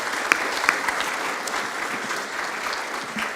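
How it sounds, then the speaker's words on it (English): An audience at a Fresno city council meeting claps in a sustained, moderately distant round of applause with a few sharper claps standing out. "Let's give everybody one more giant round of applause"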